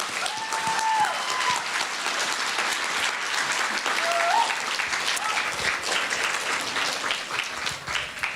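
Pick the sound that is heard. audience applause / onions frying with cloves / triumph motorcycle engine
audience applause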